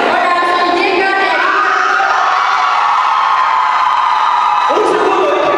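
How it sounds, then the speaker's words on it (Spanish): An audience at a live event applauds and cheers with loud sustained clapping, whoops and shouting from a big crowd, steady throughout. "Los aplausos por un segundo."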